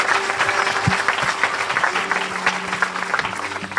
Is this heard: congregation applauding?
yes